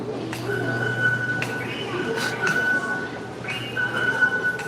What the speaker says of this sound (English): I feel the train coming